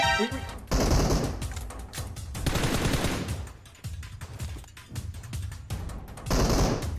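Gunfire in the battle-royale game PUBG Mobile comes in loud, rapid automatic bursts, broken by short pauses and then resuming in uneven volleys.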